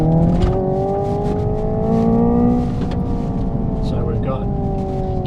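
A 2024 Hyundai Ioniq 5 N electric car in rear-wheel drive accelerates, giving off a steady synthetic whirring engine-like drone with layered tones that rise gently and then hold, under a nearby interior cabin hum.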